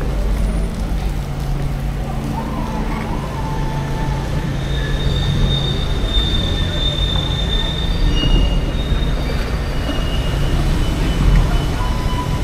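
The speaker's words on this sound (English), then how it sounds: "get on the train right there" A train running on the rails early on a Wednesday morning, with a loud, steady rumble and drawn-out wheel squeal rising and falling throughout, heard up close.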